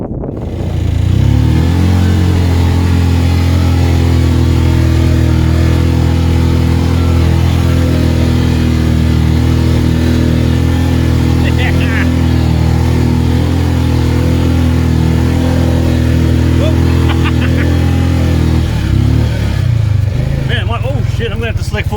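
A motorbike engine runs loud and steady at close range for about twenty seconds, with a brief shift in its note near the end.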